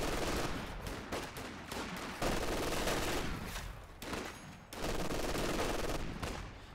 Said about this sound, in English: he's under heavy LMG suppression there